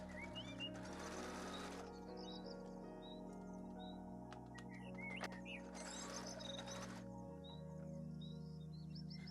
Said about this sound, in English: pin them and sew along the top and bottom edges